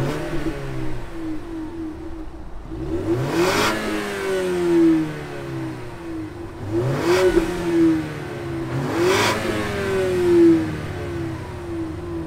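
A 2019 Ford Mustang EcoBoost with a 6-speed manual idles with a low steady hum, then revs sharply three times, each blip rising and falling quickly, heard close with no speech.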